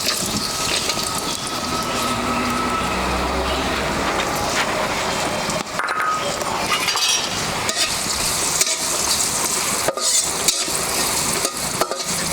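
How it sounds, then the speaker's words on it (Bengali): Grated coconut frying in a pan for a Bengali snakehead fish kalia, giving a steady loud sizzle with stirring and scraping throughout, occasional sharp clatters near the end, no talk. "এবার নারকেলটাকে ভেজে নেব।"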